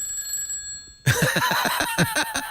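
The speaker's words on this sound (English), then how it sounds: "I'm going to call this number. I think this will ring the phone." An old mechanical telephone bell rings in a rapid burst of repeated clangs, loud and close, starting suddenly after a quiet moment.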